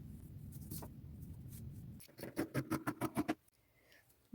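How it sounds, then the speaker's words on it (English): Scissors snip denim triangles in a quick run of about eight crisp, evenly spaced cuts, following a stretch of softer scratching as a shape is traced onto the fabric. "Now I'm going to trace and cut out"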